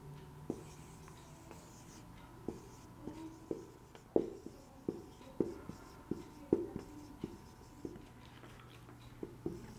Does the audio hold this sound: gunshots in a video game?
no